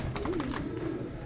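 Racing pigeons at the loft give a soft, low cooing call heard twice in quick succession over a faint outdoor background, with no talking.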